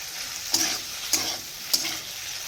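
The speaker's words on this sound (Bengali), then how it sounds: "ফুলকপিটা ভালো করে ভেজে নিয়ে সব রকম মশলা দিয়ে একটু কষিয়ে নিচ্ছি" Cauliflower frying with spices in a pan, a steady broad sizzle with three brief stirring scrapes at even intervals, close and moderately loud, no talk.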